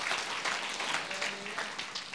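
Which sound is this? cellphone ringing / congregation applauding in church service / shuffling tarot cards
congregation applauding in church service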